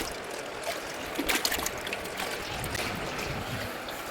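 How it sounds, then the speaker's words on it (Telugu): Water poured by mug into an air cooler's tank, a steady broadband splashing and trickling that runs continuously and fairly close, with a few brighter splashes near the middle. "సో ఇప్పుడు దాంట్లో వాటర్ ఫిల్ చేద్దాం."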